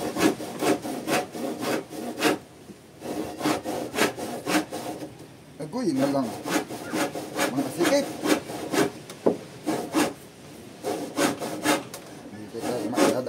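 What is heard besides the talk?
hand saw cutting wood while demolishing a boat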